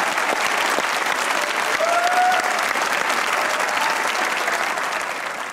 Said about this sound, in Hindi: एक बार तालियां हो